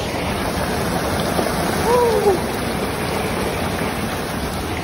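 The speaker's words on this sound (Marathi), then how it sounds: "कसं वाटलं हा पाईपातून धबधबा." A waterfall pouring out of a pipe in the rain, a loud, steady rushing roar throughout with a short vocal sound briefly over it.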